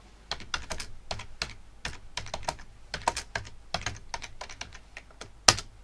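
Fingers tap out a quick, uneven run of keystrokes on a computer keyboard while entering data in an Excel spreadsheet, the clicks close and crisp, with one sharper key hit near the end and no talk.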